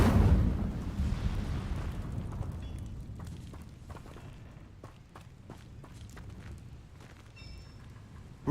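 Incendio fire spell cast in the video game Hogwarts Legacy: a loud whooshing burst of flame at the start that fades into a lingering rumble, followed by scattered clicks and footsteps from the game.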